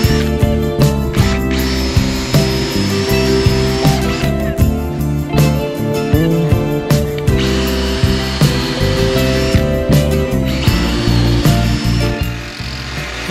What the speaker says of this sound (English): I then use a 12mm Forstner bit to drill a hole in these spots.